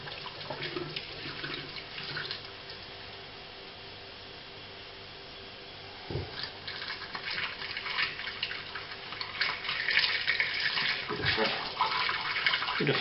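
Water poured into a home-brew fermenter to top it up toward one gallon for a Stone Pale Ale kit, a steady rushing flow with brief splashy surges, fairly faint throughout.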